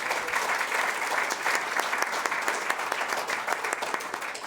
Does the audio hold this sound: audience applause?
yes